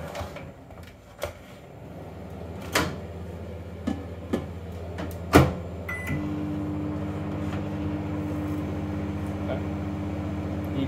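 A microwave oven runs for about two minutes, a steady low hum starting a couple of seconds in and growing fuller, with scattered clicks and light knocks from a kitchen over it.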